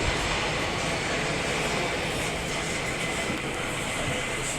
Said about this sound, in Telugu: metro train full automatic